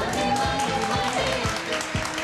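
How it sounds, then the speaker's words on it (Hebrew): A studio audience at a 2004 Israeli satirical sketch show applauds to welcome two contestants. The clapping is mixed with a thumping musical beat and sustained tones, and a voice speaks over it. "בואו ונקבל אותם במחיאות כפיים"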